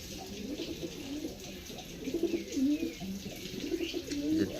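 Pigeons coo in low, repeated throaty calls, close by and moderately loud, in a steady rhythmic pattern over a soft background hiss.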